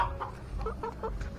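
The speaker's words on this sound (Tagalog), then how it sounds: "ito yung mga manok natin" Backyard chickens cluck in a short run of close, repeated calls over a steady low background hum, with no talk.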